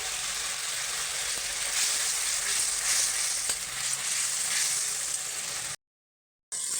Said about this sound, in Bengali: আমি মশলাটাকে ভালো করে কষিয়ে নেব তার আগে আমি হলুদ দিয়ে দেবো